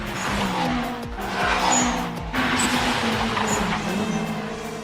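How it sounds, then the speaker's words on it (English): Wataru's turbocharged AE86 racing in Initial D, with tires squealing and skidding over a loud, continuous engine drone that rises and shifts across several seconds, close and intense, with no talk. "There goes that obsolete boom turbo of his."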